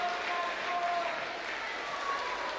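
Steady applause and crowd noise at a youth age-group swimming championship after a boys' 100-metre backstroke win, continuous and fairly loud throughout.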